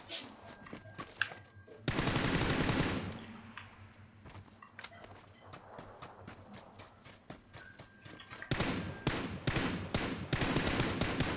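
Gunfire in the PC game PUBG PC Lite: loud, rapid automatic bursts and single shots crackle in clusters with short gaps and quieter clatter between.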